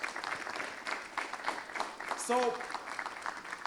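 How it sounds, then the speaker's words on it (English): A seated audience gives itself a round of applause at a talk, a soft, steady patter of clapping with a speaking voice over it and a brief tonal sound partway through. "let us give ourselves a round of applause"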